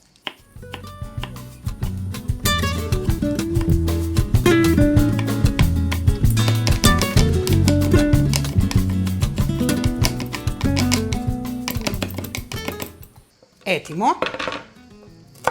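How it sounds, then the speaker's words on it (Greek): A knife finely chops a smoked roasted Florina pepper on a cutting board, giving fast rhythmic close knocks for about thirteen seconds before a brief spoken word. "Τη ψιλοκόβω."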